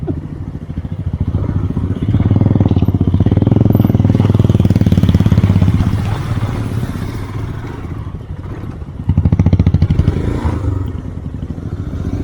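An off-road motorcycle rumbles loudly through a small stream on an extreme trail ride, its engine surging in two strong bursts with clattering and splashing between steadier idling stretches, close and continuous throughout.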